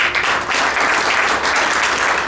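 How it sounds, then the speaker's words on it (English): Dense, loud applause from an audience at a book inauguration ceremony, a continuous wash of many hands clapping without pause. "Please give a round of applause for Asad Khan."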